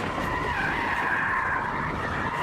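Tires of a Mercedes E53 AMG screech in a continuous loud skid while drifting in drift mode, a steady squeal held close and unbroken for the whole stretch.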